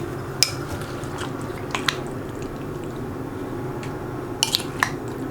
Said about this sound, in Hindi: सारी चिकन को मैं ऐड कर दूंगी। अच्छे से इसको मिक्स करेंगे